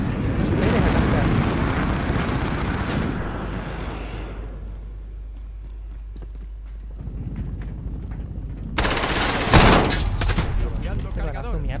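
Gunfire rattles in a Call of Duty: Modern Warfare multiplayer match. Loud bursts of shots open the clip and return near the end, with a player talking over and between them.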